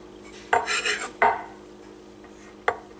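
A knife mincing garlic on a cutting board gives a few sharp, close knocks, two in quick succession and one more after a short pause, each with a brief scraping tail.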